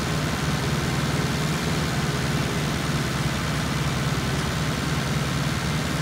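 Massey Ferguson 277G tractor ploughing a field with a four-furrow Alpler plough, its engine a steady, continuous drone with a strong low hum that stays even and close throughout, with no talk.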